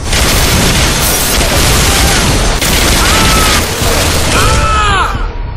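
Dense, loud gunfire and explosions from the arcade shooter video game Bodycount fill the whole stretch, with rapid bursts, booms and ricochet-like whines layered continuously.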